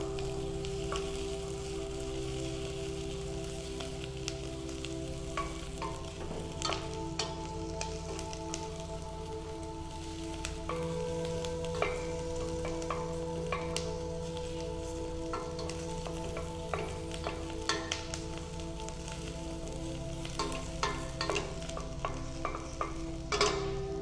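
Onions fry and caramelize in a pot, giving a continuous soft sizzle with frequent crackles and spoon scrapes as they are stirred, alongside a low steady background hum.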